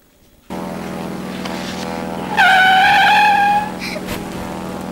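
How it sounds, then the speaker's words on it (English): A Parajet Sky Car flying car cruises in flight high above Morocco, its engine and propeller making a loud, steady, close drone throughout. A brighter whining tone swells over the drone midway through and then fades back. "high above Morocco in the amazing Parajet Sky Car"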